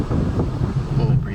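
Wind buffets a microphone outdoors on a hilltop in Fontana's Hunter's Ridge, a rough, low, gusty rumble filling the short moment, loud and close.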